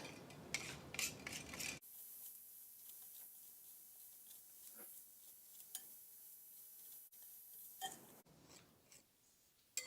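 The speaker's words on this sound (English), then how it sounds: "I'll finish off with a whisk." Sausage gravy whisked in a pan, with quiet scraping and swishing strokes of a whisk against the metal, faint and close, in irregular bursts separated by brief pauses.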